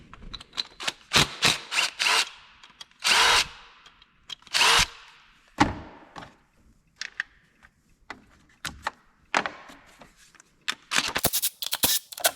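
A power driver undoes the Torx bolts on the valve cover of a 2011 Chevrolet Cruze in short, loud, close bursts separated by pauses, with a few quick rattling runs near the end.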